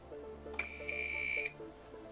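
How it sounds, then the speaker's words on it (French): A UPS emits a loud, steady high-pitched electronic alarm tone lasting under a second after its mains power is cut, over a low background hum and faint electrical noise. "quand je coupe le secteur, il y a une alarme qui sonne ici sur l'UPS."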